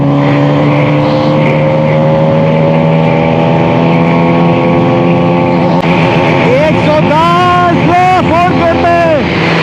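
Hero Karizma XMR motorcycle engine pulling hard and loud through the gears, its drone climbing steadily before rising and dipping with each shift, while a rider talks over it.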